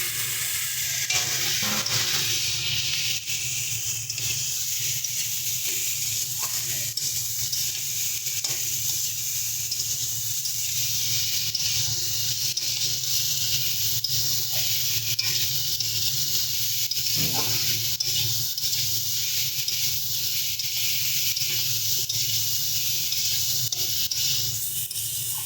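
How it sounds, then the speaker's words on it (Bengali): Pre-fried dried fish sizzles steadily in a pan of frying potato and eggplant, a close, constant hiss with occasional faint stirring clicks throughout and no talking. "এবার এর মধ্যে আগে থেকে ভেজে রাখা শুটকি মাছটা দিয়ে দিচ্ছি।"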